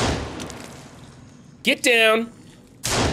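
Pistol shots ring out in a video game as a couple of sharp, loud bursts, one at the start and one near the end, with a shouted in-game voice heard between them.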